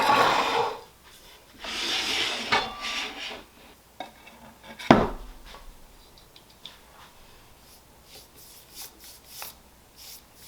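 A brush spreads a first coat of paint across wooden boards, giving soft rubbing strokes that come in bursts up close, with a sharp knock partway through and quieter scraping after it.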